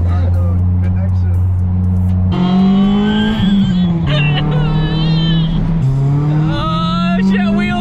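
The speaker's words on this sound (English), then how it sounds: "Oh shit, wheel spin! Wheel spin city!" A car spins its wheels under hard acceleration, engine revving loudly with rising and falling gear pitches and tire squeal, close and continuous, with an excited voice talking over it.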